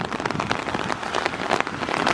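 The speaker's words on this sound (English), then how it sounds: "Man, it is so rainy." Steady rain pours onto a street in a summer rainstorm, a dense continuous hiss of drops spattering the pavement close by, with brief louder splashes and no talking.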